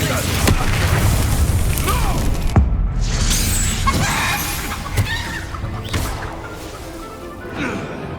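Confringo blasting spell explosion in the video game Hogwarts Legacy, with booming and shattering bursts amid a dense battle soundscape, loud and layered over game music and character voices.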